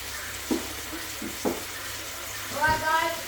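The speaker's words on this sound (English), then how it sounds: "So now I'm adding 2 tablespoons of butter" Two tablespoons of butter sizzling at the sides of a frying pan beside steak: a steady, close frying hiss throughout, with a few brief voiced sounds over it.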